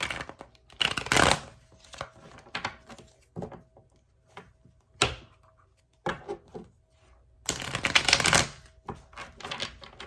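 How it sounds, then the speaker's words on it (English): Tarot cards being shuffled in bursts of riffling and soft slaps, with quieter handling and tapping between the louder flurries, close by. "I don't know why I can't shuffle the cards today"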